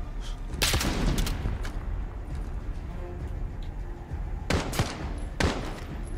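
Bursts of automatic and rifle fire from Call of Duty Modern Warfare 2019 on realistic difficulty, in a sniper-focused mission, with a few sharp, loud reports standing out over a dense, rumbling battle din.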